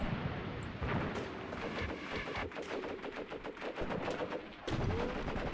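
Rapid machine gun fire from the World War II tactics game Graviteam Tactics: Mius Front, with dense overlapping bursts and distant rattling shots rolling on continuously, punctuated by heavier booming reports, with no talking.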